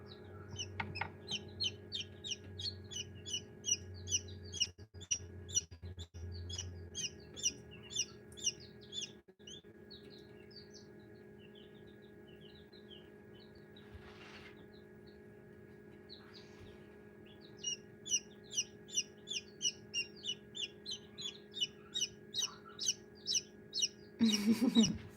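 A newly hatched baby chick gives bursts of high, rapid peeping, loud and close, with a long quiet stretch in the middle before the chirping resumes over a low steady hum.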